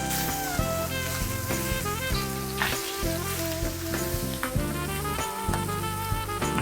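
Food searing slowly in a hot pan gives a steady, close sizzle and crackle, layered under background music with no talking.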